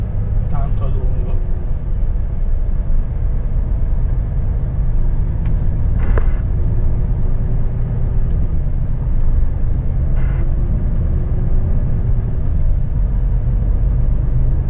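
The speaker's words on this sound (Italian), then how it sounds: "sto scendendo giù con il freno motore azionato" A car descends a hill in Sicily using engine braking, producing a steady, loud low drone of engine and road rumble that holds for the whole stretch, with a few faint clicks.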